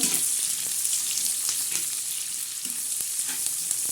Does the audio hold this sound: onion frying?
yes